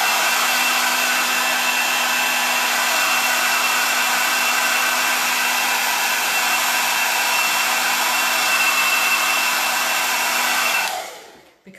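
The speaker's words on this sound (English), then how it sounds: "Now that's still a little bit wet, so I'm just going to hit it with a dryer." A hair dryer blows steadily and loudly on wet chalk paste layered on a craft project, a constant whooshing roar with a faint hum that runs unbroken before cutting off abruptly at the end.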